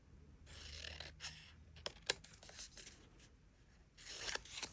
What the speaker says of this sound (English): Notice how beautifully this scissors cuts.